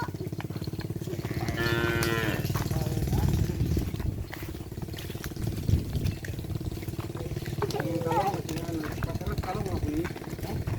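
Madurese racing cattle moo loudly several times over a busy background with a motorcycle engine running and people talking.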